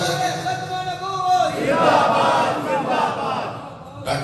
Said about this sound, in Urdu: ڈٹ کے نعرہ ماریا کرو